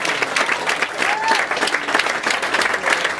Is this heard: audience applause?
yes